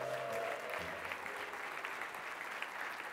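An audience at an innovation ecosystems conference breaks into applause as a volunteer walks up to the stage, with a brief low tone at the start giving way to steady, soft, even clapping throughout.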